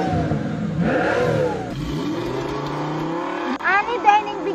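A 1000 cc big bike motorcycle engine revs repeatedly, with pitch sweeping up and down through several throttle blips close by, and a voice talks over the engine noise.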